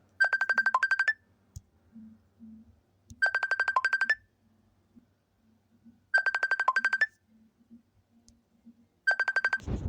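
A phone ringtone for an incoming call, four bursts of a rapid electronic trill repeating at steady intervals, clear and close, with faint background rustles between rings and no talking.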